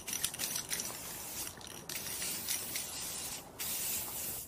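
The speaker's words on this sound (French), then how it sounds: "J'utilise cette peinture noire Matte Color Shot et nous allons pulvériser" Matte black spray paint hisses from an aerosol can onto a basket surface in close, continuous bursts with short breaks between passes.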